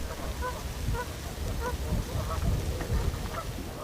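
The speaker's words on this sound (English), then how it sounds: "the main sounds were the bass notes from the trumpeter swans and the chirps and peeps from the tundra swans" Trumpeter swans and tundra swans call in a dense autumn flock, honking and peeping repeatedly at a distance, with ring-billed gulls and ducks adding their voices over steady rushing ambience.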